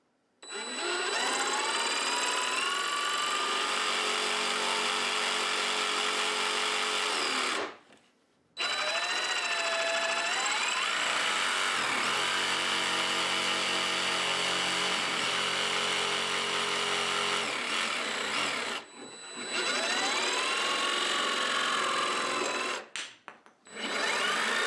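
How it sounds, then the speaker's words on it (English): A jigsaw cuts out marked wooden pieces for a rabbit house, giving a loud, buzzing, rasping saw noise in long continuous runs broken by brief pauses where the blade stops. "So I'm going to get my jigsaw now and cut those out"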